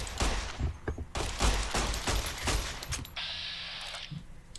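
Gunfire in the video game Fallout: New Vegas, a rapid string of close, loud shots for about three seconds, then a mechanical reload or weapon-handling whir.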